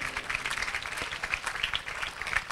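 A church congregation claps hands in praise, a dense, steady patter of many hands that carries on without a break, fairly loud, and no speech can be heard over it.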